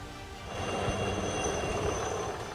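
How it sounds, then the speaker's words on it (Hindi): A helicopter flies supplies into a disaster area cut off by a cloudburst and debris in the Himalayan valley at Dharali-Harsil, its engine a loud, steady roar that builds quickly and holds. "इसी हेलीकॉप्टर से यहाँ सामान भी पहुंच रहा है।"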